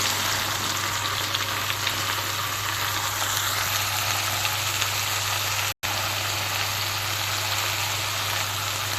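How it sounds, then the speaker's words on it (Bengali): Sliced ridge gourd and potato frying in oil in a pan with ginger-garlic paste, a loud, steady sizzle that continues without a break. "আর এখন দিব কেটে রাখা ঝিঙ্গে আর আলু"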